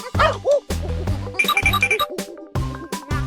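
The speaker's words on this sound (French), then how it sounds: "c'est le petit chien mignon et adorable" A small cartoon puppy yapping in a series of short, high, bright barks with brief whimpering yips, close and lively, repeated in quick bursts with short gaps between them.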